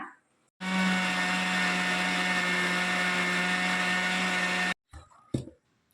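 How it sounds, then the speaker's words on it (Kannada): A mixer grinder blending mango puree with sugar runs with a steady, loud whirring hum for about four seconds, then stops abruptly, followed by a few brief clunks. "ಈಗ ಇದನ್ನು ಚೆನ್ನಾಗಿ ಬ್ಲೆಂಡ್ ಮಾಡ್ಕೊಳ್ಳೋಣ"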